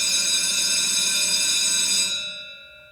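A bell rings on a television talk show set, one sustained bright metallic tone that rings loudly and then fades away, with no voices over it.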